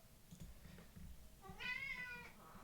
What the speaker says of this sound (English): Hey, here comes the cat.